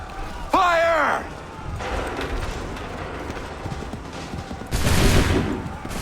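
Musket volley fire in Assassin's Creed 3, where a line of soldiers fires together on command: a loud ragged fusillade at the start, a shout, battlefield din, and another heavy volley near the end.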